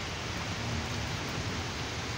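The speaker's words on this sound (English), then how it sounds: "It's raining hard." Heavy rain pours onto a porch during a storm in Georgia, a steady dense hiss with a low rumbling undertone, continuous and fairly close, with no voices.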